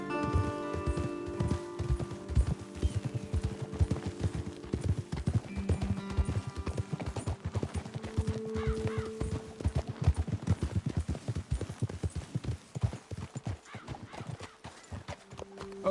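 Steady clip-clop of horse hooves trotting at a moderate pace in the video game Red Dead Redemption 2, with an occasional whinny, under a continuous musical backdrop of sustained tones.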